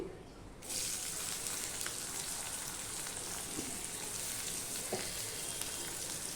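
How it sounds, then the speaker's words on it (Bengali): Chopped onion dropped into hot oil already sizzling with black cumin seeds, starting as a sudden loud, steady frying hiss with occasional pops and crackles, and no talking. "কালো জিরেটা ফোড়নে হয়ে গেছে এবার আমি দিয়ে দিচ্ছি পেঁয়াজ কুচি"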